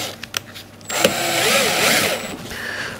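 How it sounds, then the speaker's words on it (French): A power drill bores a hole into the body of a BMW M4 F32 to route wiring for OLED taillights. It starts with a few light clicks, then gives a steady, close whirring grind for about a second and a half before it winds down. "on va percer un trou"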